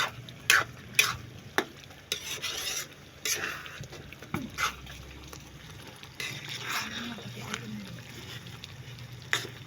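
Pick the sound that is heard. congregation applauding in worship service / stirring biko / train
stirring biko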